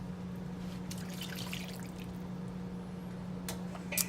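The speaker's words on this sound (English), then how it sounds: "take your beef broth and to get all those yummy flavors out of the bottom of the pan" Beef broth pours into a hot pan to deglaze the bottom, giving a soft steady trickle and drip of liquid with a faint sizzle, close and continuous, no voices.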